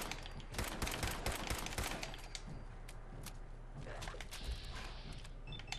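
Rapid automatic gunfire from a machine gun turret in Fallout 4, a dense sustained rattle of shots running through the whole stretch with scattered louder cracks, close and loud over game ambience.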